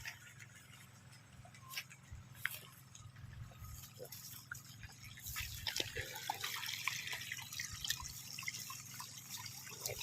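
Irregular small drips and light trickling of water leaking from a pipe over a steady low background hum, close and fairly quiet, growing a little busier toward the end.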